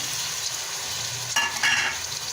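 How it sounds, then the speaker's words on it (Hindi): Tomatoes going into a pan of frying matar pulao, with a steady close sizzle and a brief burst of stirring scrapes partway through. "अब इसमें जा रहे हैं टमाटर"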